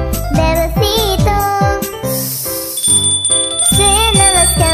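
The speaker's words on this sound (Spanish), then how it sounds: "suenan las campanas, suenan las campanas" Bells ring out brightly in the Spanish children's song "Frère Jacques" (¿Estás Durmiendo Hermano Juan?), chiming in a steady rhythm over music, loud and close.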